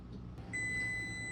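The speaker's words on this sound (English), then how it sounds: "our timer just went off" A kitchen timer in a home kitchen during cupcake baking gives off a single steady, high electronic beep that starts partway through and holds to the end, faint over a low background hum.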